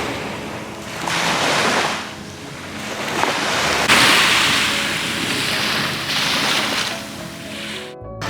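Sea waves breaking on a black volcanic sand beach near Naples, a loud, close, rushing wash that swells and recedes in slow surges, with wind buffeting the microphone.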